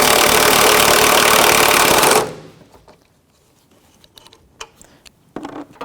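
A ratchet with a 15mm socket works on the strut mount nuts of a 2007-2017 Jeep Patriot 2.4L. It makes a loud, rapid, continuous whirring rattle for about two seconds, then stops, leaving faint scattered clicks and clanks.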